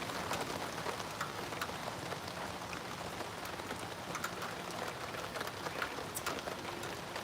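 Steady rain falls outside, a dense continuous patter of drops striking surfaces with no pauses. The hiss stays even throughout, and no voices are heard.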